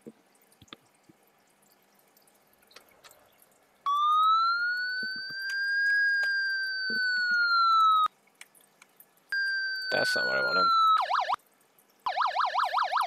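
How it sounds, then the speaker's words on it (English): Electronic siren tones from the game Emergency 4 rise and fall in clear, loud sweeps, switching into rapid warbling yelps toward the end, with a brief spoken phrase at the start. "you can pretty well hear the siren tones that he has."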